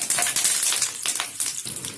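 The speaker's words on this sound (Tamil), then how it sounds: "கறிவேப்பிலை போட்டுக்கலாம்." Curry leaves dropped into hot oil already crackling with mustard seeds and urad dal, tempering for a Tamil potato pepper fry; a steady, close hiss of frying that dips and flares over about two seconds.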